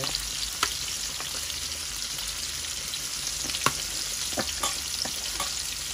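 Shrimp frying in hot oil, heard as a continuous close sizzle with scattered sharp pops and spatters, some louder clicks standing out, and no voices.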